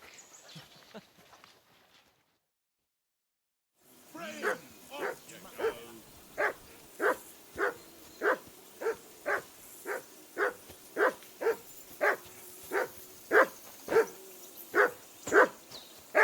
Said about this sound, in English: Henry! Call off that damn dog